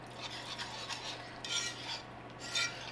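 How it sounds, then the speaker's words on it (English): Broth is whisked into a sauce in a pan, producing soft, irregular scraping and swishing strokes over a low background hum, quiet and close, with no talking. "Gonna add a little bit at a time, whisk it in"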